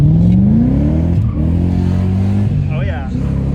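A BMW car on a short test ride around Almaty, Kazakhstan: its engine revs up, drops through a gear change and pulls again, loud and close, while people talk inside.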